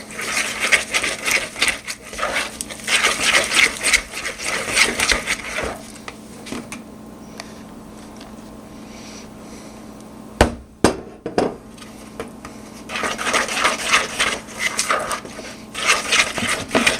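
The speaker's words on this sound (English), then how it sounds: "we stir this until we have no lumps left and it's pretty smooth here" Thick powdered sugar icing for cinnamon rolls being stirred in a bowl, loosened with a little hot water, giving repeated scraping, knocking strokes in bursts with a quieter stretch in the middle and a few sharp clacks.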